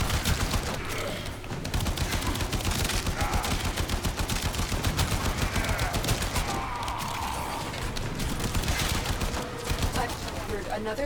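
MK1 Braton assault rifle firing in Warframe during a long survival mission, heard as loud, continuous rapid automatic fire in dense, steady bursts throughout, with a voice speaking over it.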